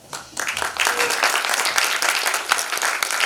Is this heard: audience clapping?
yes